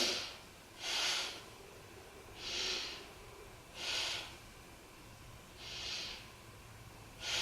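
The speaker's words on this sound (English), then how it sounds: "So let's take 3 breaths here." Slow, even breaths drawn in and let out during a beginner back-strengthening yoga exercise, four or five soft airy whooshes spaced about a second and a half apart over a quiet background.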